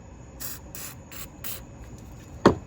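Dry Teflon lube is sprayed onto RC car gears in four short, even hissing bursts from an aerosol can, up close, followed by a single sharp click.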